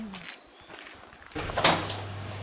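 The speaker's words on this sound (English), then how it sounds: "Open the door for us. Let us into our cabin." A cabin door in Australia is opened, with light shuffling and then a firmer thump and rattle as it swings, followed by a low steady hum.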